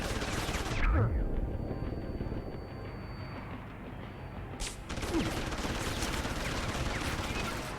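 Gunfire in the video game Deus Ex: Human Revolution Director's Cut on Wii U comes as a dense, continuous roar of rapid shots with a brief lull midway, loud and sustained throughout.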